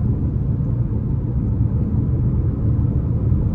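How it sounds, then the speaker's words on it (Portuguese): Steady low tire rumble from a Jeep Compass rolling along the road, heard from inside the cabin as a dense, even drone with no voices. "rodagem dos pneus. Ele passa um pouco pra dentro da cabine."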